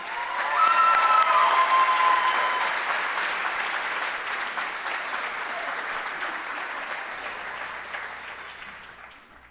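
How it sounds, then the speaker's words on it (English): An audience at a Doctor of Physical Therapy commencement ceremony gives a sustained round of applause, with a brief whoop near the start. The dense clapping swells quickly, then slowly thins and fades over nearly ten seconds. "please, one more round of applause for Brian, Dr. Brian Formia"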